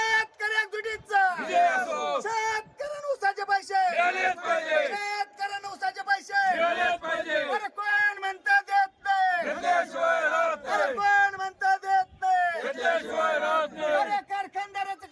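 Farmers protesting unpaid sugarcane bills at a tehsil office chant slogans against the government, with one voice leading and a loud crowd answering in a rhythmic call-and-response of shouted lines, close and forceful.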